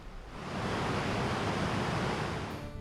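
Water pours over the spillway of a state park lake, a steady broadband rush that swells in and holds evenly, with no voices.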